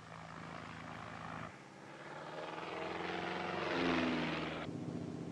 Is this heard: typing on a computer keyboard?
no